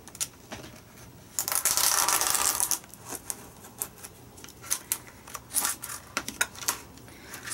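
Scissors trimming a paper cover for a Midori-style notebook, close crisp snipping with a longer rustling cut early on, followed by scattered clicks and short snips.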